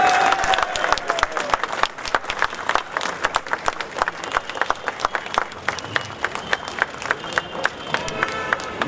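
A crowd at a film event for Sooryavanshi at a PVR cinema in Andheri gives sustained applause, dense clapping that rises and dips for several seconds with voices mixed in underneath.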